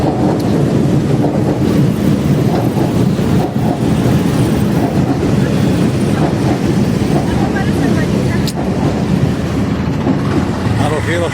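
A heavy, continuous rumble of an LRT light rail train rolling past close by along the Pasig River in Manila after rain, loud and steady throughout with faint clatter.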